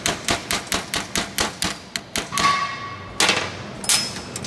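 Small punch struck with a hammer to drive a rivet out of a DEF sensor, a rapid run of about a dozen sharp metallic taps followed by a few scraping and clinking sounds.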